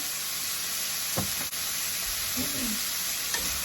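Onions with kosher salt sweat in a pan over medium heat, giving a steady soft sizzle broken by a few light knocks and stirring scrapes.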